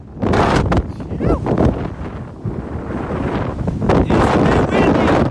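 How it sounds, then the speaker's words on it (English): Loud, blustery wind at Owl's Head buffets the microphone in continuous gusts, with a rumbling low-end roar swelling and easing throughout. "It's a bit windy! About to blow me off!"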